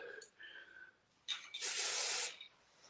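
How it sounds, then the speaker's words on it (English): Hairspray hisses from an aerosol can onto styled hair in a single loud, close burst of about a second, with quiet sounds of handling just before it. "And what is the hold of that hairspray?"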